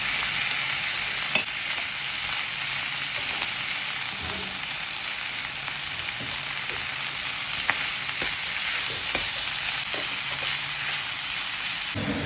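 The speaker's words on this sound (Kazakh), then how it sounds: "үстіне болгар бұрышы мен қызанақты салып, тағы да 5 минуттай қуырамыз" Bell pepper and tomatoes fry for bolognese, a loud, steady hiss of sizzling close up with occasional soft knocks and scrapes from stirring.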